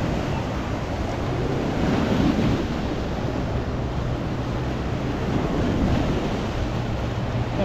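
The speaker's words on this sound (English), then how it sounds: "Waves are giving it out, aren't they?" Rough sea surf pounding the promenade at Blackpool on a rainy, windy day, a continuous heavy roar of crashing water mixed with wind buffeting the microphone.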